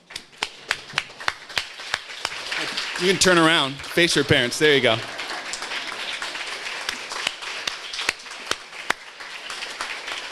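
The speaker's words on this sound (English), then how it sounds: "Graduates, please stand and join me in applauding your parents." Eighth-grade graduates standing to applaud their parents at a graduation ceremony, scattered claps ringing out through the hall while a speaker talks over them, the clapping continuing sparsely after the voice stops.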